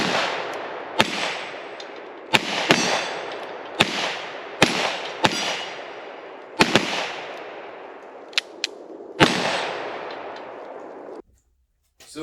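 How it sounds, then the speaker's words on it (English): Reports from a .44 Magnum Desert Eagle pistol, about nine sharp loud shots at irregular intervals, each with a long echoing tail outdoors. "So we put this 44 mag Desert Eagle to the test up against the Choppas."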